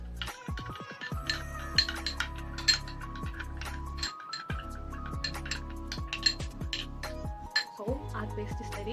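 Spoon repeatedly clinking and scraping against a bowl while curd and turmeric paste are stirred together, a steady run of close, bright taps and scrapes with brief pauses and musical tones underneath.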